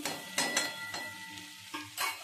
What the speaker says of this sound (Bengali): এটা দিয়ে আমি একটুখানি ভেজে নেব, সামান্য একটু নাড়িয়ে নেবো